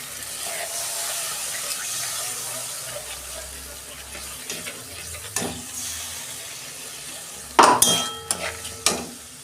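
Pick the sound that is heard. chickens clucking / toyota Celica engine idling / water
water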